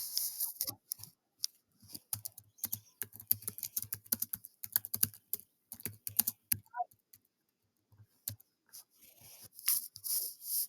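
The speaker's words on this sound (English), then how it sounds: "Let me just type it in." Rapid, close clicking of a computer keyboard as an answer is typed during a Blooket quiz game, irregular bursts of keystrokes with brief pauses, and a short voice sound partway through.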